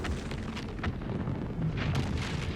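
Deep booms and rumbling blasts from a shelling bombardment in a video game, a steady low roar broken by several sharp bursts over a few seconds, with no voices.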